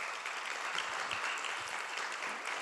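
Audience applause from a full room of people at a creative conference event, a dense steady wash of clapping heard alone and fairly close, lasting a few seconds without a break.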